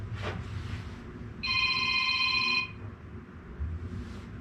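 A telephone rings once with a bright, sustained electronic tone lasting about a second, standing out over low background noise.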